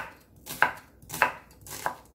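A knife chops half an onion on a cutting board, three distinct crisp strokes spaced about six-tenths of a second apart, close and fairly quiet with no talking.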